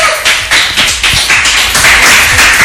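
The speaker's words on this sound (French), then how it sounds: "Est-ce qu'on peut l'applaudir?" Applause for a guest in a radio studio, a run of quick, fairly loud claps and taps for a few seconds.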